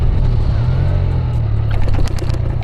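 A TVS Raider 125 motorcycle ridden at high speed around 90 to 100 km/h, giving a loud, close, steady engine drone with rushing wind and a few brief clatters toward the end, no talking.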